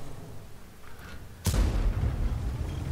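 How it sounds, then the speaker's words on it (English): A heavy IS-4 tank cannon in World of Tanks fires toward a bush: one sudden loud boom strikes after a quiet stretch and leaves a long, low rumbling tail. "Two shots into that bush."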